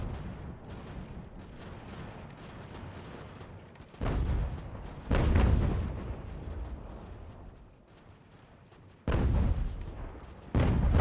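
Mortar artillery in the video game Ultimate General: American Revolution fires in heavy booming bursts, four sharp blasts spaced irregularly over a steady low battlefield rumble.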